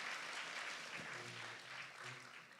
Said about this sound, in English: give big round of applause to our speakers tonight